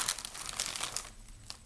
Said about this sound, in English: Cut that bag open.